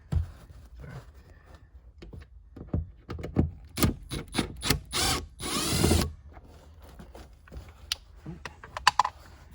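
A power driver backs two Phillips screws out of interior trim on a 2016 Subaru Impreza: short whirring bursts separated by clicks and handling noises in a quiet car cabin, with a longer spin near the middle.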